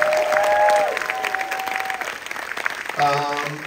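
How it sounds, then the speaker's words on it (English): An audience at a Friday the 13th Part 3 Q&A claps in a short burst of applause, dense and close, with voices mixed in and the clapping fading slightly before a final swell. "big round of applause for Larry,"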